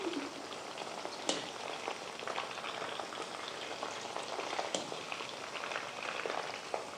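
Stuffed bitter gourds stuffed with mince fry in a pan with a constant bubbling sizzle, soft and steady, broken by two sharp clinks as they are turned.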